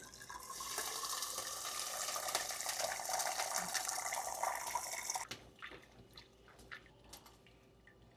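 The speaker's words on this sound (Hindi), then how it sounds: "अब हम इसके ऊपर ठंडा पानी लगा लेते हैं।" Cold water from a tap pours steadily over freshly boiled lasagna sheets for about five seconds, a close rushing splash, then cuts off, leaving faint drips and light kitchen clatter.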